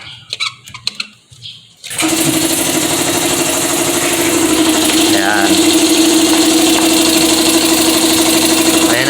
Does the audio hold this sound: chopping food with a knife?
no